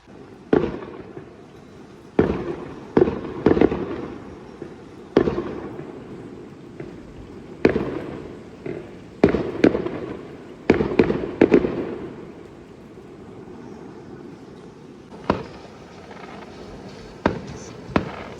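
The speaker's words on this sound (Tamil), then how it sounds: "ஆனால் வெடி கொளுத்தி கொண்டு தான் இருக்கிறேன்" Firecrackers go off in heavy rain during Swiss National Day celebrations, a series of sharp, booming bangs at irregular intervals, each echoing briefly over a steady background hiss of rain.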